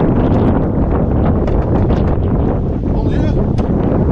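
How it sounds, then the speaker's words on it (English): Strong wind buffets the microphone on a clifftop near Land's End, a continuous loud roar and rumble with gusty bursts and faint voices in the background. "Man, is it ever windy."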